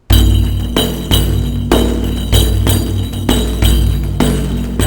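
Customized bendir frame drum with jingle and strings, struck in a steady pattern of about eight resonant booming hits with buzzing snare-like rattle, close and loud, played alone.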